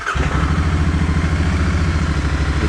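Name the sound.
Royal Enfield Continental GT 650 motorcycle engine starting and idling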